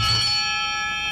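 A game show buzzer bell on a 1989 Scrabble television show is struck once. A bright ringing tone rises sharply and then holds steady, clear and fairly loud, with no voices over it.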